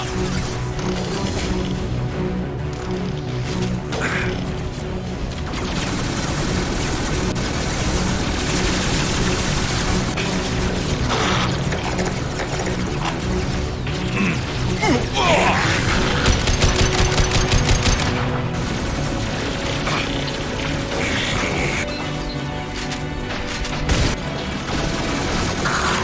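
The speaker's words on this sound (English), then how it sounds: "Taking fire!" Sustained gunfire from Mass Effect 2 combat on Haestrom, loud rapid bursts and overlapping shots with crashes and impacts layered continuously for the whole stretch.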